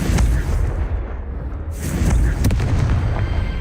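Repeated Confringo blasting spells in Hogwarts Legacy, a continuous deep rumbling of booming explosions with crackling bursts layered on top, loud and close, and no one speaking.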